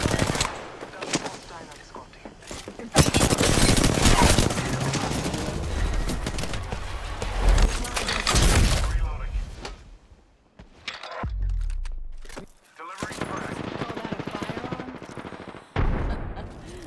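Automatic weapon fire from an Apex Legends match, loud bursts of rapid gunshots repeating through most of the stretch with brief gaps, mixed with game voice callouts.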